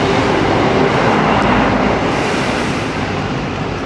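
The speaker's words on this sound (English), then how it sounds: "We just got a freight train going past in the background." A freight train rumbles past in the background, a steady, loud broadband roar with heavy low-end rumble that stays constant throughout with no voices.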